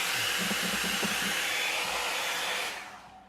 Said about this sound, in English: A hair dryer running.